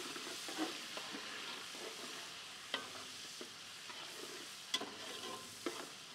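Green chillies with garlic-ginger paste sautéing for degi chana pulao, a steady close sizzle with occasional sharp spatula scrapes and clicks against the pot, no voices.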